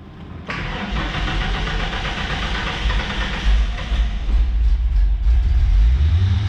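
A 1989 Ford Thunderbird Super Coupe's 3.8-liter supercharged engine starts and runs, a sudden catch followed by a steady rumbling idle that swells with low revving near the end, close and fairly loud.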